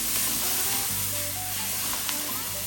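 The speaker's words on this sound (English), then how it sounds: "So I'm going in with 1 cup bell pepper, 1 cup onion, and 1 cup celery." Chopped bell pepper, onion and celery hit hot fat in a gumbo pot and give off a steady close sizzle with a light hiss, a few soft clinks from stirring, and no talk.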